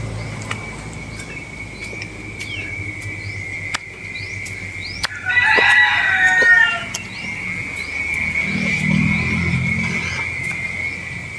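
A rooster crows once at middle distance over a steady insect drone, followed by a few soft clucks in the background.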